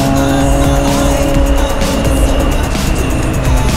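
Carbureted Honda Hornet 600 motorcycle riding in Poços de Caldas, its loud continuous engine note close and steady, revving with sharp rises throughout.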